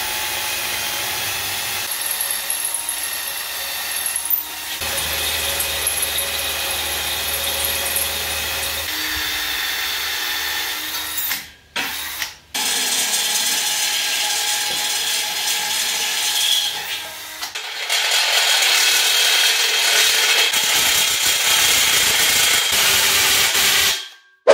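A step drill bores a hole through two pieces of clamped metal while building a rollover jig for a Mk1 Rabbit, a steady grinding rasp that runs almost without a break, pausing briefly twice near the middle.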